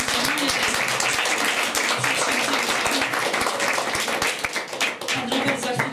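Applause from an audience at a book-collecting charity culture event in Kłobuck, honoring the initiator of the campaign; steady dense clapping fills the room throughout, with faint voices underneath.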